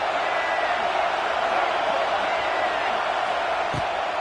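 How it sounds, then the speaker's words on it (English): A large stadium crowd at an NCAA football game roaring in a sustained, even wash of noise, loud and distant, with no distinct voices standing out. "This crowd bringing the energy and noise early."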